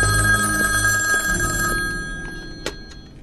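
An old-style telephone bell rings steadily indoors, its bright metallic tone holding for about two seconds before fading, followed by a faint click near the end; no one speaks.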